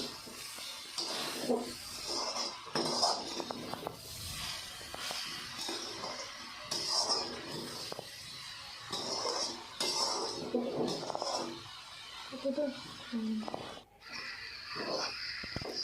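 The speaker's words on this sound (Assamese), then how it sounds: "হাতাখনেৰে লৰাই দিম, মিক্স কৰি দিম।" A ladle stirring coconut laddu mixture in a pan, with repeated scraping and metallic clinks in an irregular rhythm, close and moderately loud, with a soft hiss underneath.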